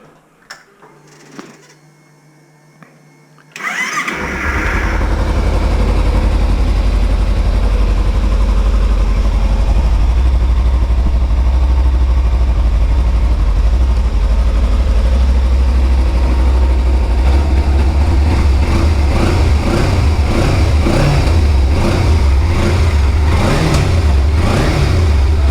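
A Kawasaki Ninja 300 motorcycle engine coughs briefly, then roars to life and holds a loud, steady rumble, with rising and falling revs toward the end.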